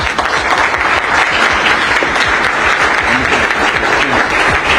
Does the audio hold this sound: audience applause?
yes